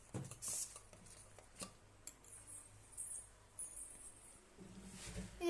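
A spoon stirring rice flour and milk in a metal pot: faint, close metallic clinks and scrapes recur irregularly against a quiet background.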